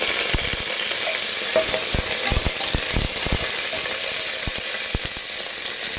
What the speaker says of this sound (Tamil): கடலப்பருப்பு பொன்னிறமாக மாறந்தும் கருவேப்பிலையை சேர்த்துக்கிறேன்